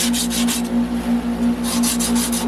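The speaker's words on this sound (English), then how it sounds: "we're sanding the copper lines like I told you" Sandpaper scrubs back and forth over the copper lines of a replacement A/C compressor, a rapid run of rhythmic rasping strokes close up over a steady low electrical hum.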